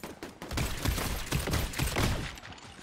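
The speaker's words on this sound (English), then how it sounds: "Test out our new sniper. And our new machine gun or whatever you want to call it." A rapid, loud machine gun burst in a video game, a steady stream of close shots lasting a couple of seconds with no talk.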